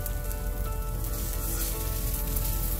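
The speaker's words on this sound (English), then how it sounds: "Sprinkle some cilantro on, spread the cheese out, and we let it fry." A cheese and cilantro dosa frying on a pan, a steady, even sizzle and crackle like light rain that holds throughout, close and fairly loud with no talk.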